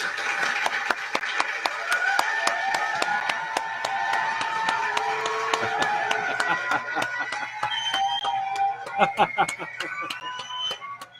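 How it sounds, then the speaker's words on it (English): An audience claps steadily in a regular, fairly quick rhythm, close and clear throughout, with whistling and tonal chatter running underneath and a livelier flurry of claps near the end. "the audience out there is clapping too"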